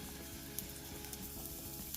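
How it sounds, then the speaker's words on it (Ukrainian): Onion fries in oil in a pan, a faint, steady sizzle with small crackles and pops scattered through it and no talking. "А далі на цій же олії, на цій же сковороді смажимо цибулю"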